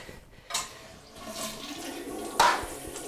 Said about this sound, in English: We're going to let all the water drain out of the tank, which means you want to hold the handle down the entire time.